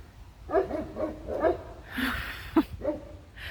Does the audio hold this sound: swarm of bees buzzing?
no